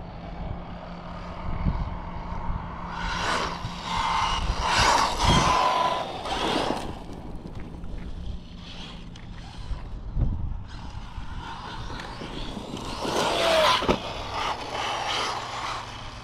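A Traxxas Maxx Slash RC truck with a new motor whines in bursts as it drives, electric motor surges rising and falling, some near and loud, others fading off between runs.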